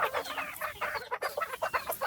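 Desi chickens clucking close by in a steady series of short, bright calls with brief pauses, no voices over them.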